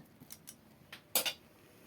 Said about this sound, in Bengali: তরকারিটা ঢেকে দিলাম